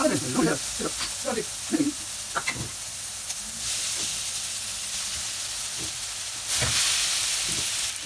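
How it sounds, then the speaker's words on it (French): Cooked spaghetti being drained, a rushing, steamy hiss of pouring water that swells partway through and continues steadily, with a voice talking briefly at the start. "Allez, je les égoutte."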